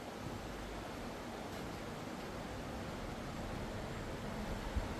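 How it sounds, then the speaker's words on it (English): A small river flows steadily near an old 1800s structure by a known swimming hole, a faint, even rushing that holds constant throughout with no voices. "Nice little river."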